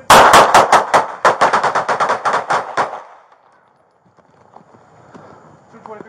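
A rapid volley of loud gunshots during a police shooting in Louisville: around fifteen close, sharp cracks in quick succession over about three seconds, then near silence with faint clatter and distant voices.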